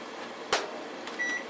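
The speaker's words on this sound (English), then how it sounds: "I'm going to pop my bacon in the microwave and cook for about 3 minutes." A microwave oven hums quietly while cooking bacon, broken by a sharp click of a door or button and a short beep near the end, close by with no talking.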